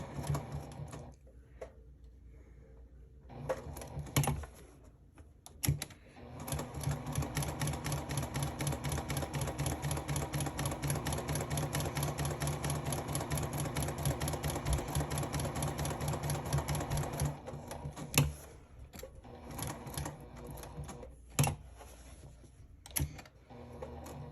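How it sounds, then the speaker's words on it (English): A sewing machine runs in one long steady burst of rapid stitching around a box shape on fabric, preceded and followed by short starts, pauses and quiet handling clicks; close and moderately quiet. "I'm going to go ahead and I'm going to sew along this entire box that I made."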